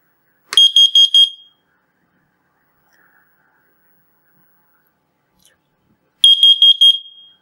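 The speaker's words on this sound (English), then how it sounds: "When I push the test button, it should start the alarm and show the measurement on the LCD and make short acoustic signal." A carbon monoxide alarm under test sounds two short bursts of rapid, piercing high beeps, each a quick cluster about a second long, separated by several seconds of near silence.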